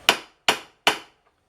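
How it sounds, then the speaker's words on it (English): Three evenly spaced hammer taps on a metal vise seating a door hinge part for a 1968 Fiat 850 Spider, sharp close strikes each ringing briefly before fading. "So this one I'm going to give a couple more taps to over here on my vise."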